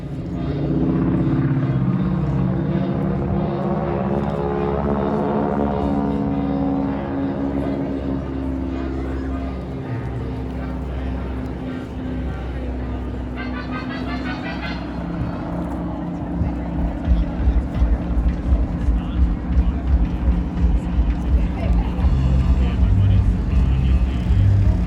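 The SNJ trainer warbird's engine roars with a loud, continuous growl at the Jones Beach airshow, turning rougher and more pulsing toward the end, with a voice talking over it.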